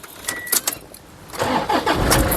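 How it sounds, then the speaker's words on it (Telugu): A 2013 Toyota Innova 2.5 G turns over with a short starter crank, then fires on the first try and settles into a loud, steady idle close by. "ఒకసారి ఈ కార్ సింగిల్ సెల్ఫ్లో స్టార్ట్ అవుతుందా లేదా అన్న చూపిస్తానండి"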